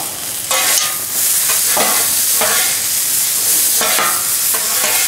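Green beans sizzle in melted butter in a pan, a steady close broadband crackle with a few louder bursts as they are stirred, no voices.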